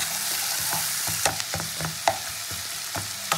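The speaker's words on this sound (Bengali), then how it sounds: "আদা রসুনের কাঁচা গন্ধটা যতক্ষণ না রাখে ততক্ষণ আমি একটু ভাজবো এটা মশলাটা।" Ginger and garlic paste fries in hot oil with a steady sizzling hiss, broken by a series of scraping stirs and occasional louder utensil taps against the pan.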